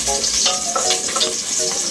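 Garlic sizzles and fries in a pan, a steady bright crackle with a few faint clinks, heard close and alone over a short stretch.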